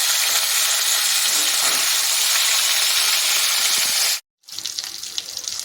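Black pomfret fish frying in oil in a pan over a medium-low gas flame, a steady, dense sizzling hiss that cuts off abruptly for a moment near the end, then resumes.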